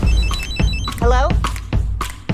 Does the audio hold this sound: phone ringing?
yes